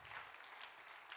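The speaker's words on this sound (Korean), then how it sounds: "한번 박수 한번 쳐줘" A church congregation claps for the pastor and his wife, a soft, continuous patter of many hands heard at a distance and fairly quiet for just over a second.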